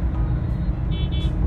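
Cars and other vehicles idle and creep in a dense traffic jam on a bridge at about eight o'clock, a steady low engine rumble close by with a brief higher whine or squeal near the end.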